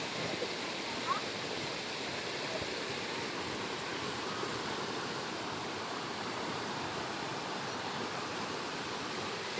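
Floodwater from Typhoon Opong rushes in a steady, dense roar that stays constant and fairly distant throughout.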